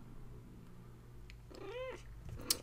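A pet cat named Kitty gives a single short meow, close and fairly clear, over a low steady room hum, followed by a brief soft rustle.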